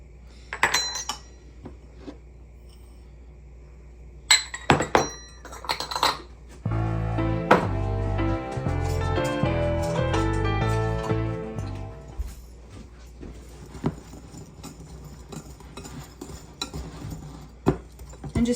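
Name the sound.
mixing dry biscotti ingredients together in a bowl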